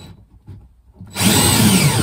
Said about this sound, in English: I just drilled one hole in a piece of wood